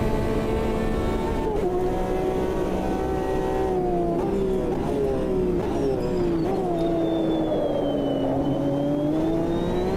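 A Porsche endurance race car in the Automobilista 2 racing game, its engine droning loudly and steadily with pitch rising and falling through gear changes, heard alone without talk.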